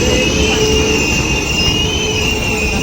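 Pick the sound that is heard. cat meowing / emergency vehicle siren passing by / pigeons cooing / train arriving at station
train arriving at station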